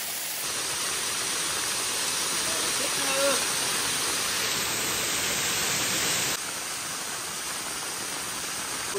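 A waterfall with water pouring down hard, heard as a dense, steady roar that fills the whole clip without a break, with a faint voice in the background.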